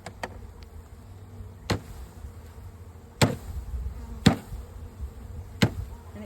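A package of honey bees hums with a steady low buzz, broken by several sharp knocks as it is sprayed with sugar water and tapped to settle them.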